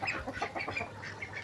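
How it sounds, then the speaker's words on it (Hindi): A rooster roams among hens that cluck in quick, close bursts, a busy run of short calls with no talk over them. "ये घूम रहा है मुर्गा"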